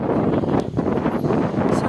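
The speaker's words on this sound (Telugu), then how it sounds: "గాలి అయితే ఘోరంగా వేస్తుంది గైస్" Strong wind buffets the microphone on the hilltop at Golconda Fort, a loud, continuous low roar with gusty swells and rustling.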